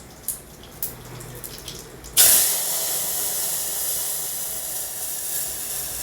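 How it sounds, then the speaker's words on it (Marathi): Cooked dal poured into a hot tempering in a pan: after a few quiet clinks, a sudden loud hiss and steamy sizzle bursts up, then settles into a steady bubbling sizzle. "आता ही शिजवलेली डाळ जी आहे ती आता आपण घालणार आहोत."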